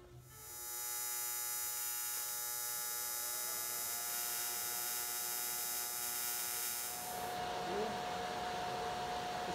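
Welding beads being laid on a car fender during metalshaping produce a steady, loud electric buzz that holds continuously for about seven seconds before its tone shifts near the end.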